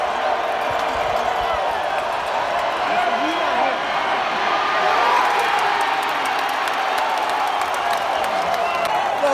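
Crowd cheering at a football game, a dense roar of many voices with scattered shouts and claps filling the stands, steady and loud throughout, with nearby people talking over it.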